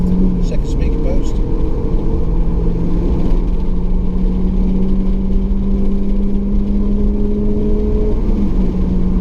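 A car engine pulls hard, its humming tone climbing steadily as it works up through the gears with a short shift into fourth, with a loud, constant roar underneath.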